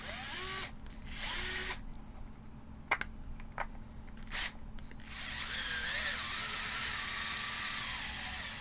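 A power drill drives screws into an RC car kit, a Team Associated RC10CC, in several short whirring bursts broken by brief clicks and pauses, then one longer sustained run near the close.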